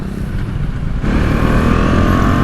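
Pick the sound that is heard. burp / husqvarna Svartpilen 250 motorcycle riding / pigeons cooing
husqvarna Svartpilen 250 motorcycle riding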